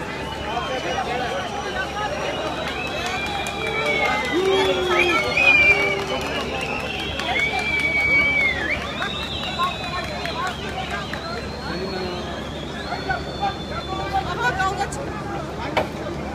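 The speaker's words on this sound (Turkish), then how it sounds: "Kalabalığı dağıtmak için gaz bombası atıldı." Crowd dispersing in Alanya after a tear gas canister is thrown: a busy outdoor din of running feet, shouting and babble, with voices talking and crying out throughout.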